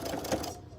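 A sewing machine stitching a farmhouse pot holder, a brief close-up whir of rapid needle strokes that stops abruptly partway through, with no talk.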